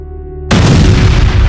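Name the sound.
explosion sound effect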